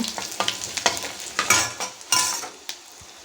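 Mustard seeds, cumin, fenugreek and three dried peppers sauté in hot oil, a lively close sizzle broken by a series of sharp spoon-stirring scrapes and taps against the pan.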